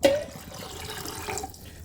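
Water poured over rice in a pressure cooker in a home kitchen, a short splashing gush that settles into a brief steady pour, close and fairly loud.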